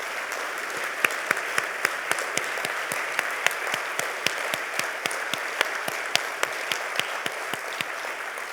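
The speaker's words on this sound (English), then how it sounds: "give them a big round of applause" A crowd at a county distinguished citizen award ceremony applauds steadily throughout, a full, even roar of clapping with distinct close hand claps popping out in a regular, quick rhythm.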